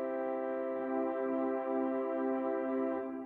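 Pipe organ gamba stop sounding with a string celeste rank tuned slightly sharp, a soft, reedy sustained chord with a gentle slow beating shimmer, held steadily and fading slightly at the end, no speech.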